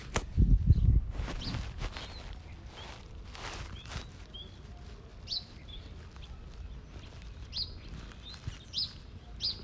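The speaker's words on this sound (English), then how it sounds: "Everyone loved the birds" Small birds chirp in short, repeated high tweets, scattered across the clip after a brief bump and rustle at the start.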